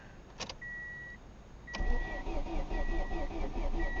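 Ford Escort ZX2 on a weak battery, cranked in a start attempt: a couple of clicks, then the starter catches and a rough mid-pitched engine churn builds under chiming warning tones, close by.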